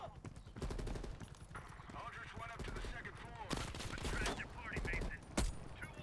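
Rapid automatic gunfire and sharp shot bursts from the Call of Duty: Cold War video game, rattling steadily with louder spikes near the end, mixed with game speech.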